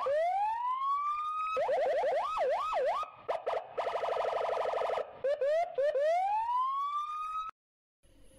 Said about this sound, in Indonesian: Ini lagi ada mobil polisi.